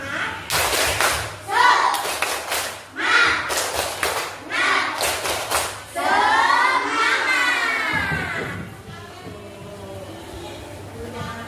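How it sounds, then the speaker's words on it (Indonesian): Primary school pupils in a classroom perform a rhythmic clapping chant, loud bursts of hand claps and thumps alternating with the children's voices chanting together, followed by a teacher speaking. "Tepuk semangat."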